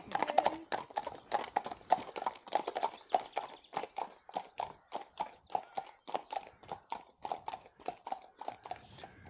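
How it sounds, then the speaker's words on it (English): Horses carrying riders walk past on a lane in a Dorset village, with hooves clip-clopping in a steady, even rhythm. The sound is clear and close, fading slightly as they pass, with no talk over it. "Lovely horses."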